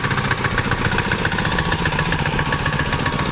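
A 7hp petrol chain cultivator engine runs steadily at close range, a loud, even chugging drone with a rapid pulsing rhythm and no pauses, heard alone without talk.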